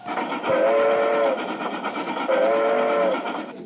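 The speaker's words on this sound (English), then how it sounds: "all he could hear was the train moving very fast" A train rumbles along steadily at speed, with two drawn-out whistle blasts sounding over the continuous rolling noise.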